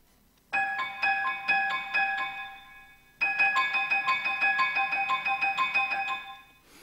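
Two bursts of quick, repeated high piano-like notes ring in a bouncy pattern imitating great tit song, separated by a brief pause, played alone.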